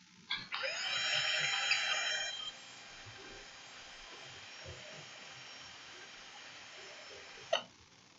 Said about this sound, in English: Hopefully the drill isn't super loud and obnoxious.